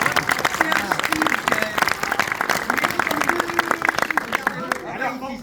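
Applause from a studio or stage audience with speech over it and scattered claps and crowd noise, loud and steady throughout.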